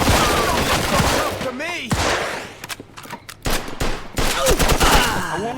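Rapid bursts of gunfire from the video game Mafia 2, mixed with ricochets and a brief shouted call, with loud shots near and continuing in uneven volleys throughout.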